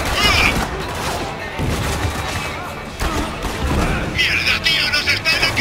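Dense gunfire from a firefight in the video game Spec Ops: The Line, a loud continuous fusillade of shots and booms, with shouting voices mixed in throughout.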